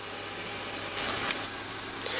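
A 2015 Honda Accord Coupe's 2.4-liter four-cylinder engine idles quietly at a steady low hum, with a couple of faint brief bursts of hiss over it.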